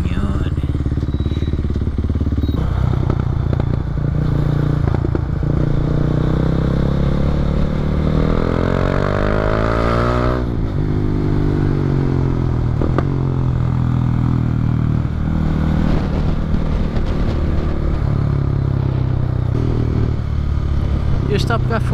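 A motorcycle engine idles and revs in a steady, close mechanical drone, rising and falling through a few throttle sweeps with some clattering, while people speak Portuguese over it.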